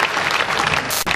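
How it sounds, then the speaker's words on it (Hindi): Loud, dense applause from the audience at a Hindi comic poetry gathering, a hasya kavi sammelan, honoring a guest; steady clapping fills the whole moment, with a brief dip near the end. "तो एक बार जोरदार तालियां सुनील जी के"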